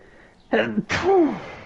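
A single sneeze close up, a quick sharp intake followed by a loud explosive burst that trails off.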